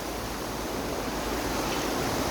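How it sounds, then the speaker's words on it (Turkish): River water rushing steadily near Kozcağız in Bartın, a broad continuous roar of flowing current with no breaks, close and alone without voices. "burası ırmak büyük ihtimalle akarsuyumuz şırıl şırıl gürül gürül akan bir suyumuz var"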